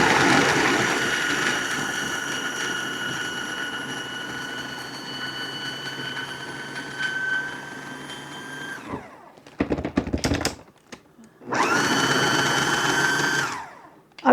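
Electric food chopper finely mincing about half a bag of garlic cloves, a loud steady motor whine for several seconds, then short stop-start pulses and another sustained run, with no talking.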